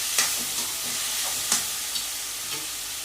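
Spices for egg biryani frying in a pan with coriander leaves, a steady close sizzle broken by a few soft scrapes as the mixture is stirred; no one speaks.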